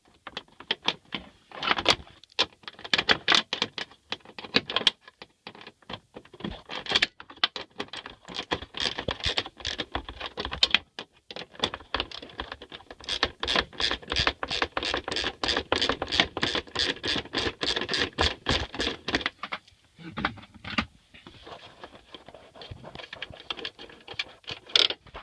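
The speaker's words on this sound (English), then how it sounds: "remove that one bolt" A wrench works a dashboard bolt loose on a 2004–2008 Ford F-150, producing a long run of rapid, close metallic clicks and scratchy ratcheting in steady bursts with brief pauses and no talking.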